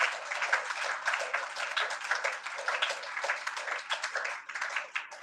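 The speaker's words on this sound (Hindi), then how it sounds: "जोरदार ताली बजाकर धन्यवाद देते हैं" A church congregation at a Sunday meeting claps and applauds continuously, a dense crackle of many hands at moderate distance, slightly muffled and steady throughout.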